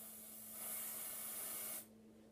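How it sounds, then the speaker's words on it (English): Hairspray hisses from a can onto hair during braid bun styling, one steady, close spray lasting over a second before cutting off abruptly. "take some hairspray"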